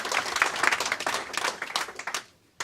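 Guests at a distillery launch party in Lisbellaw clap in a brisk, moderately loud round of applause that thins out and fades to near silence just before the end.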